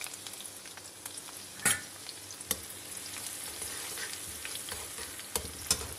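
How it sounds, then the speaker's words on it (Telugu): Onions and green chillies fry in hot oil in a wide pan, a steady sizzle with a few sharp scrape and stir clicks near the start and end, close and alone with no talk. "దీంట్లో కొంచెం ఆయిల్ వేసాను ఫ్రెండ్స్. ఆయిల్ వేసాక ఈ ఉల్లిపాయ, పచ్చిమిరపకాయ"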